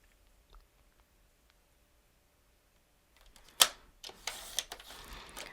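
Cardstock panels for a fancy-fold bouquet card are trimmed to size, heard as a sharp snap followed by a few close crisp cutting strokes after a quiet stretch.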